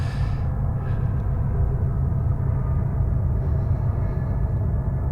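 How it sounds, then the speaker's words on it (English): A train rumbles past near Amboy Crater in the Mojave desert, a steady loud low roar that holds without pause from start to finish, with no talk over it. "You might be able to see the train."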